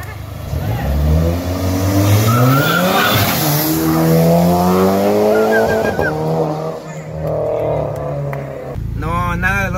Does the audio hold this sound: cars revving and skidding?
yes